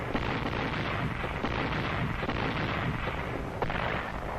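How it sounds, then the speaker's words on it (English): Corps Artillery batteries fire during the WWII Guam campaign in the Marianas operation, a dense, continuous rumble of distant gunfire and booming blasts on an old, noisy documentary soundtrack with no talk. "Batteries from Corps Artillery laid down heavy interdiction and harassing fire on the enemy supply"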